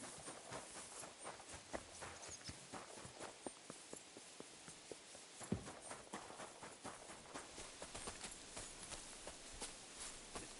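Horse hooves clip-clopping at a walk in Kingdom Come Deliverance 2, a steady run of soft, evenly spaced hoof strikes across the whole stretch, one slightly louder thud near the middle.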